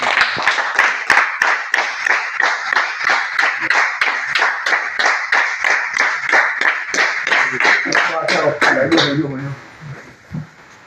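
Steady clapping from a crowd, brisk and continuous for several seconds before it fades out.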